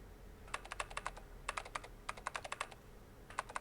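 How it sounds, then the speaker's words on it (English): Rapid typing on computer keys in the visual novel 999, bursts of sharp clicks running together in quick flurries, separated by brief pauses, close and alone. "She was typing at an incredible speed, the click-clack of the keys running together like machine gun fire"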